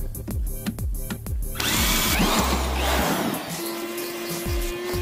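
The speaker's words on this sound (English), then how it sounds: "I got my 5/16 inch hole drilled here." Close, loud power drill boring a 5/16 inch hole for a seat reinforcement bracket in a first-generation Toyota Tacoma, starting with short rhythmic trigger bursts, then a long sustained grinding whine that tapers off.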